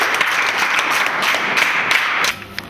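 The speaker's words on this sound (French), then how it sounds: "Bien, applaudissez." Audience applause at a local water governance talk, a steady wash of many hands clapping that stays loud and even for about two seconds and then thins out abruptly.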